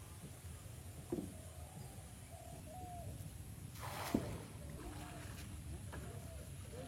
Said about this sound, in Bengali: নৌকা নিয়ে যাচ্ছি, দেখি মাঝখানে আমরা ছাউ দেবো।